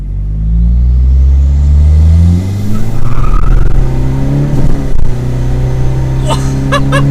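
A remapped Toyota Hilux Vigo engine revs hard during a four-wheel-drive launch, a loud sustained roar that climbs then breaks into uneven rising revs, up close.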